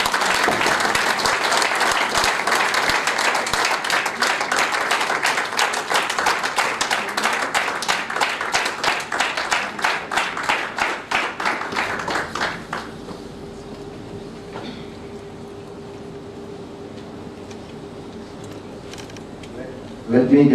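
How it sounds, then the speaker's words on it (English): Audience applause welcoming a speaker at a corporate HR conference, dense clapping that grows into rhythmic, partly unison claps, then stops abruptly, leaving a quiet room hum. "So please welcome Sir with a round of applause."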